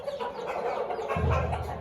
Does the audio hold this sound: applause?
no